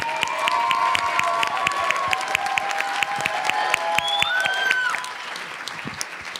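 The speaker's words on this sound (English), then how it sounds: "Let's give them a big round of applause." A high school audience applauds student presenters with dense, continuous clapping, mixed with whoops and shouted cheers that taper off near the end.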